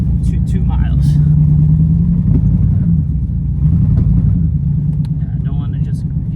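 A Chevrolet Corvette engine idles with no throttle, a steady close low rumble running underneath continuous conversation between people nearby.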